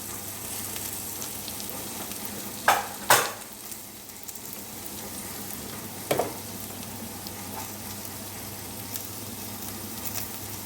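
Sweet potato with onions, mustard seeds, turmeric, coriander powder, salt and chili frying in a pan, a steady close sizzle with a few sharp clatters of stirring around the third and sixth seconds.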